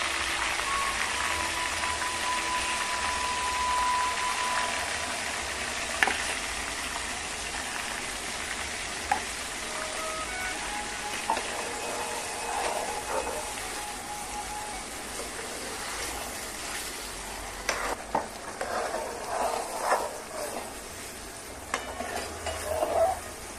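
Pav bhaji gravy with turmeric and asafoetida cooking in a pan, a continuous quiet sizzle and bubbling with occasional stirring clinks and utensil knocks, no voices.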